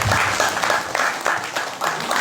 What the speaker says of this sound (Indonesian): Luar biasa, tepuk tangan untuk Pak.